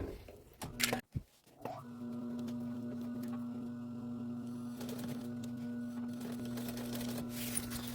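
A steady mechanical hum with a fast running stitch, a sewing machine stitching a zipper onto a puffer coat continuously after a couple of brief clicks at the start.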